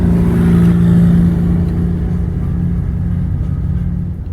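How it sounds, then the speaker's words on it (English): A big tow truck hauls away a large bus parked on a city street near a mall, its heavy engine giving a steady, loud low rumble that eases slightly as the vehicles move along, with no voices. "The city brought in the big tow truck to tow him away."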